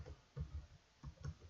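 A handful of soft computer mouse clicks, quiet and close, coming in small irregular clusters.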